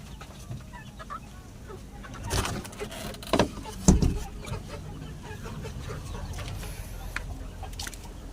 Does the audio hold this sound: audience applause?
no